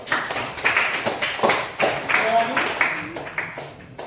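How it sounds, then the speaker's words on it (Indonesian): Applause from a small class of student teachers: a run of separate claps with an uneven rhythm, moderately close, while a voice talks over them. "berikan aplaus"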